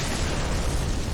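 A fire attack from a Shadow of Yarnham in Bloodborne, a dense roaring burst of flame that stays loud and steady through its short length, with no talk over it.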